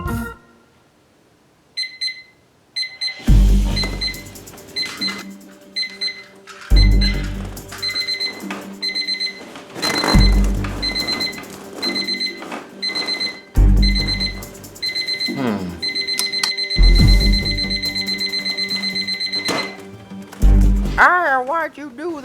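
A cartoon-style alarm clock rings in repeated loud bursts, each starting with a thump and sustained bright tones, separated by short pauses, with a few warbling electronic sweeps near the end.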